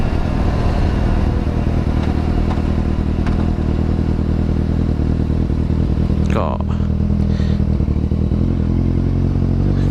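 A black-and-red Kawasaki Z800 motorcycle fitted with a Daivo exhaust idles and burbles loudly and continuously close by, with a rough, dense rumble and a brief crackle partway through.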